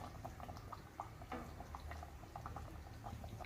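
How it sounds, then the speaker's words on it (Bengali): Pangas fish curry, with fried fish pieces added, bubbling on a high flame; a soft, steady simmer of bursting bubbles and small pops, faint and close, with no voices. "মাছটাকে দিয়েও আমি হাই ফ্লেমে আরও 5 মিনিট মতো ফুটিয়ে নেব"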